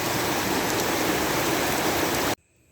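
Dense, steady rain pours down in a continuous hiss for a couple of seconds, then cuts off abruptly into near silence.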